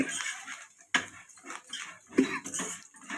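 A metal lid set onto a cooking pot, with sharp clinks and a scraping knock near the start and again a little past the middle, among softer utensil clatter, close by.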